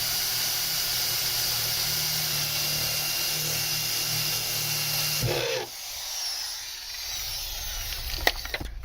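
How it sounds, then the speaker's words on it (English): A power drill bores holes in a metal vehicle floor, a steady close-up motor whine and grinding hiss that stops abruptly, followed by quieter handling clatter and a few sharp knocks. "I'm going to centre pop and drill those holes"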